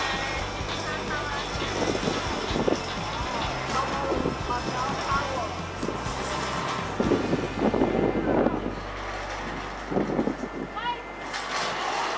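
Gusty wind buffets the microphone on the Macau Tower skywalk, a steady roar with louder bursts, while people talk loudly over it throughout.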